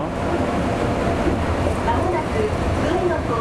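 A train ride through Yokohama, Japan, with a steady, loud rolling rumble and rattle of the carriage that continues without a break for the whole stretch.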